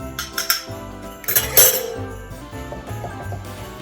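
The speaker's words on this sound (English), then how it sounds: "Add egg and stir to cook and thicken." A spoon stirs egg into melted cocoa mixture in a pan for no-bake Nanaimo bars, giving quick clinks and scrapes against the pan, louder in a burst midway, with no talking.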